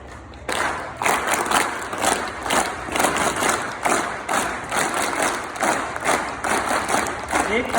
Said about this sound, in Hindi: एक वीर ताली मैम के लिए, वीर ताली होती है 1 2 1 2 3।